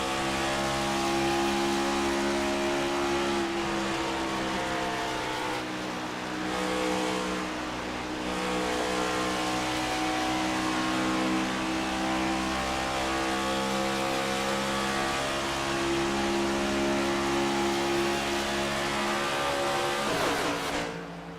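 Race car engines roar steadily through a Las Vegas oval race in a Next Gen racing sim video game, a dense, continuous drone with rising and falling pitch as cars run together through turn 2; no talk.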